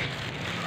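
Rain falling outside a home, a steady soft hiss of drops on surfaces, faint and continuous with no voices.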